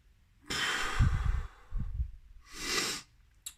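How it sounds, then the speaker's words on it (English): A person demonstrates deep nose breathing up close: a long, airy inhale through the nose, a brief pause, a shorter sniff-like breath, then a smooth exhale, with no talking. "So breathe out, breathe into your nose."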